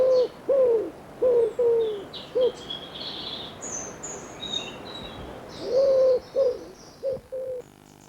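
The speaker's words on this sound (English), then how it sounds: "Their rhythmic cooing song is a familiar sound." Wood pigeon cooing in repeated rhythmic phrases, soft hooting notes in clusters with pauses between, fairly close and clear, with faint higher chirps from other birds in the background.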